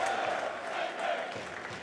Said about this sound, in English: the light and the festive cheer is coming from the home end at the moment